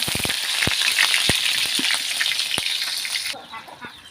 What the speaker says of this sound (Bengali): সব কিছু পেঁয়াজ তেলে দিলাম।